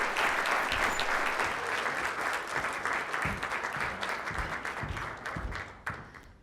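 An audience at an MCPS Taking Action! keynote applauds steadily to welcome Dr. Dorinda J. Carter Andrews, a dense wash of clapping that gradually thins and fades toward the end.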